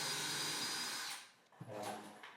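A power drill whirs steadily for about a second while driving a screw into a wooden support board, then stops; faint handling knocks and a brief scrape follow.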